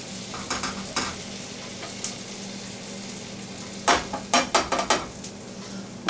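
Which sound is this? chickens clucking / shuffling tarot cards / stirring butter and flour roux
stirring butter and flour roux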